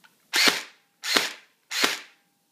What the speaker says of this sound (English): And then let's just have a firing test of semi.